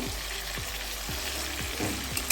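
Tomato and onion frying in oil with spice paste in a pan, a steady close sizzle broken by a few soft stirring strokes, no voices.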